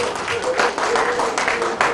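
An audience at a freedom of religion conference applauds an award recipient with dense, continuous clapping. Voices carry faintly beneath the applause.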